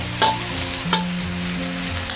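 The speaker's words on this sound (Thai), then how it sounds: "นี่ค่ะให้เราเจียวนะกระเทียมค่ะให้หอมเลยค่ะ" Garlic frying in oil in a pan gives a steady close sizzle, with two brief spatula scrapes as it is stirred.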